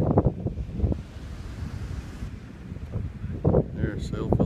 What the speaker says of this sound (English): Good gust of wind there.